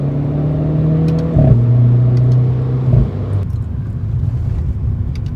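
A Renault Clio RS18 fitted with an Akrapovič exhaust gives two sharp revs or gear changes over a droning engine tone, then settles into a lower rumble.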